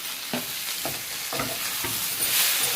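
Chopped onions and tomatoes fry in a pan, a soft continuous sizzle broken by a few spaced stirring scrapes, with no one speaking.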